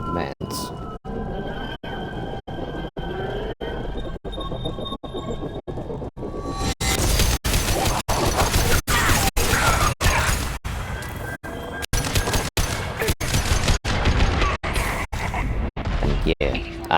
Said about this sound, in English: The sound that gun makes is fucking immense